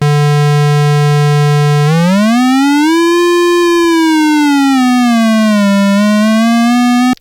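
A bright buzzy tone from the third oscillator of an Arturia MatrixBrute analog synthesizer holds low, then sweeps smoothly upward, drifts back down and climbs again in continuous full-range pitch glides, loud and alone before cutting off abruptly.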